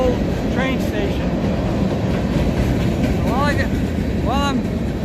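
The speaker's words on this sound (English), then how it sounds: "the train came by and I couldn't resist coming out and shooting the train" A train rolls past the old train station in Wickenburg, a loud steady rumble with high squealing wheel tones rising and falling throughout.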